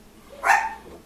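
A dog gives a single sharp bark, fairly close and loud, standing out against a quiet outdoor background with no talking.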